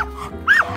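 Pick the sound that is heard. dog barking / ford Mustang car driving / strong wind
dog barking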